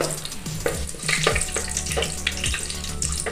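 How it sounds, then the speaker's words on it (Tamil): Bay leaves, cardamom and cinnamon fry in hot oil for coconut milk rice, giving a steady bubbling sizzle broken by several close stirring scrapes and clinks of the pan. "இது கூடவே ரெண்டு பிரியாணி இலை, மூணு ஏலக்காய், ரெண்டு பட்டை, நாலு கிராமு இது சேர்த்து புரிய விடலாம்."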